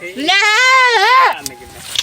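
A single loud, close goat bleat, a long wavering cry lasting about a second, followed by quieter rustling.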